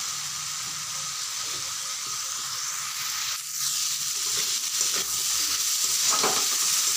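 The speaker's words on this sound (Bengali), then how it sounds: "বেশ ভালো করে কষাতে হবে।" Spices and garlic sauté in a hot pan with oil, giving a steady loud sizzle with a slight rise midway, broken by the scrape and slosh of stirring, and no voices.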